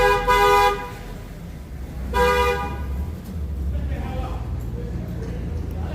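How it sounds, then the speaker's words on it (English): Delivery truck horns honk back and forth in two distinct bursts near the start and middle, loud and close on a cold, wet street, with traffic rumble continuing between them. "I never hear them like honk at each other"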